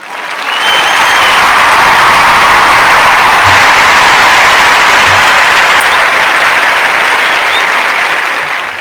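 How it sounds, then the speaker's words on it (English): A studio audience gives the guests a round of applause, a loud, sustained roar of clapping that rises quickly, stays full and even for several seconds, then begins to taper. "we're going to give my guests a special round of applause"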